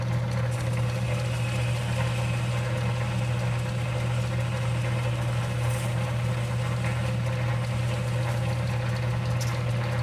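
A lathe spinning a nylon plug down on a turning pass, a loud, steady motor hum with a strong low tone and constant whirring over its full length, with no voices.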